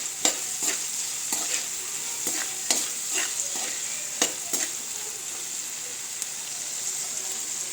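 Green chillies spit and sizzle in a hot pan with a little salt, a continuous fry broken by sharp pops and intermittent stirring scrapes, with no voices.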